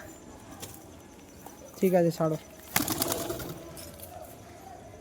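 Pigeons coo in a loft, a short, close burst of soft cooing followed by a flutter and scuffle, under brief talk and background noise.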